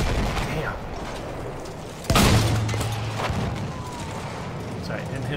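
A single heavy artillery shell blast in the World War I shooter game Battlefield 1, booming suddenly mid-clip over constant battlefield rumble and distant gunfire, with players talking throughout.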